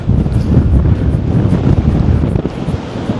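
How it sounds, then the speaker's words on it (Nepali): Strong wind roars steadily into the microphone at a beach lookout where the Moore River meets the ocean, a loud, constant buffeting rush with no pauses and no voices. "बबाल हावा चलिरहेछ यार."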